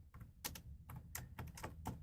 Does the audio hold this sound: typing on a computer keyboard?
yes